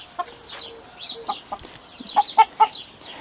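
A rooster clucks in short bursts, with three sharper, louder clucks close together near the end over faint outdoor background.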